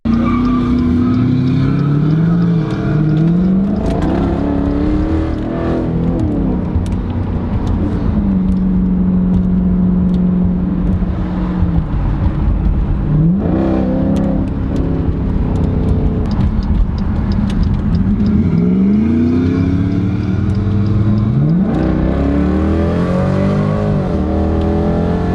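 A Mopar car weaving through traffic, its engine revving hard with repeated rising and falling pitch sweeps and occasional tire squeal, loud and close throughout.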